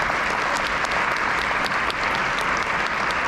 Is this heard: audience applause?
yes